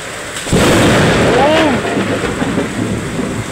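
A loud, sudden thunderclap from a nearby lightning strike bursts out during a heavy tropical downpour, then rumbles on over steady rain, with a few faint voices in the background.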